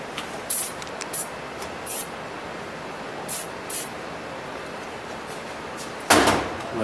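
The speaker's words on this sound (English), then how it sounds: "Then we're going to spray it." WD-40 lubricant is sprayed onto the packing nut of a leaky household shut-off valve in several short, close hissing bursts, ending with a longer, louder spray, and no talking.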